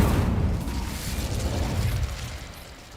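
An Incendio fire spell in a video game sets a letter alight: a loud, dense roaring whoosh of flame that starts strong and slowly fades over about three seconds, with no voices.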